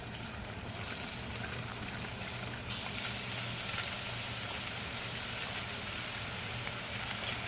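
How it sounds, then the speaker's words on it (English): A halibut fillet sears in a pan with a whole stick of butter and herbs, giving a steady, moderately quiet sizzling hiss that runs unbroken from start to finish. "fish has been searing off for about 2 minutes"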